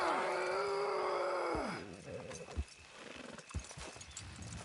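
Horses in the Red Dead Redemption 2 video game give a long, loud whinny, followed by a few heavy hoof clops and snorts as the animals move, close by.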